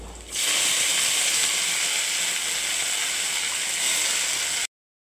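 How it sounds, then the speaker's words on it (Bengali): Tender leafy greens hit hot oil with cumin seeds and green chilli, giving a steady, loud, close hiss that holds evenly before cutting off abruptly. "আমি শুধু কাঁচা লঙ্কা আর জিরে ফোড়ন দিয়ে আমি শাকটা ছেড়ে দেবো"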